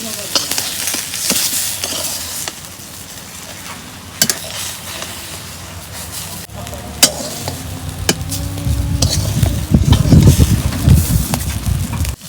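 Mirka fish fry in a pan, with a continuous crackling sizzle broken by sharp scrapes and clanks of stirring, and a fuller burst of frying noise near the end.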